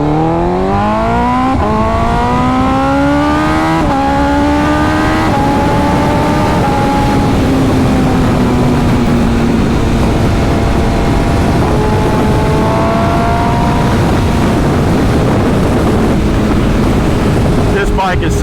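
A 2025 BMW S1000RR motorcycle rides through traffic, its engine droning loudly and steadily with rising and falling pitch through gear changes, wind rushing over the microphone.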